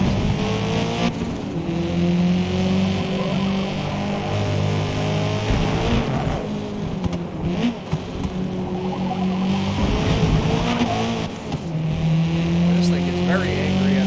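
Race car engine in Forza Motorsport, loud and continuous, revving up and dropping through downshifts with rising and falling pitch, with brief tire squeal and a voice talking over it.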